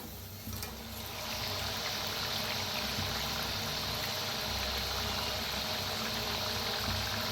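Potato and roasted-gram chakli deep-fry in hot oil. A dense, bubbling hiss swells after the first second and then holds loud and even to the end, heard close with no voices.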